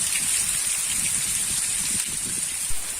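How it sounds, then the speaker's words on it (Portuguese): Steady, dense rain falls across the sertão of Bahia, a continuous close hiss of drops with no pauses and no voices. "Mais um vídeo de chuva chegando aqui no canal Desbravando o Sertão, com muita chuva pelo estado da Bahia."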